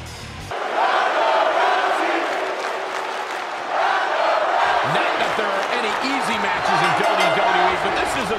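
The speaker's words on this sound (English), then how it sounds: "it sounds to me like the crowd is more than ready for this one" Wrestling arena crowd in the video game WWE 2K20 roars and cheers continuously, loud and dense, with a commentator's voice talking over it.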